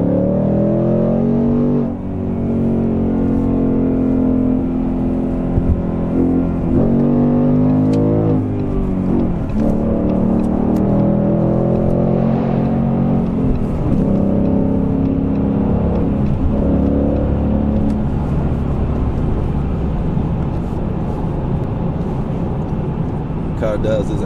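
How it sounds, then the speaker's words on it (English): A 2019 Ford Mustang GT base model with traction mode on makes loud acceleration runs, its V8 revving up through several gears with clear shifts. Someone talks over the engine for much of it. "do a couple acceleration runs just to show you how fast it is in real life"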